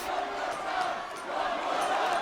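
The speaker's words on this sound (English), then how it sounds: "You can hear the crowd." Dense, steady yelling and cheering from a large wrestling arena crowd fills the whole stretch, a loud continuous roar with swelling shouts rather than distinct words.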